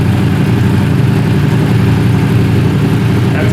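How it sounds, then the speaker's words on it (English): A warmed-up Yamaha YZF-R1 sportbike with an Arrow Competition full exhaust and dB killer fitted idles indoors in a building, giving a loud, steady low rumble that holds evenly throughout without revving. "That is idle with the DB killer."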